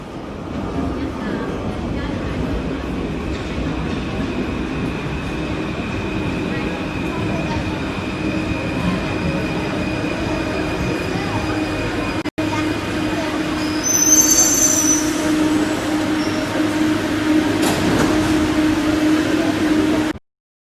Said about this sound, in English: So I just hopped off of that train